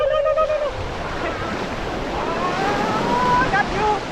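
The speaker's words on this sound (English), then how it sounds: "the waves that are breaking into our dinghy" Ocean waves break and wash into a small dinghy in steady, loud surf, with wind rushing across the microphone and excited voices shouting over the water.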